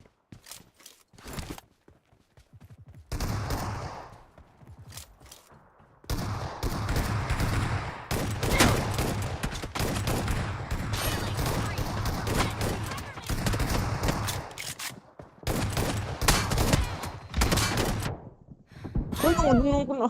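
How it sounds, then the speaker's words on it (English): Gunfire in the battle royale game PUBG Mobile, with bursts of shots and fusillades coming from several directions, dense and loud through much of the stretch, with a voice speaking over parts of it. "Bro, they're shooting me from everywhere,"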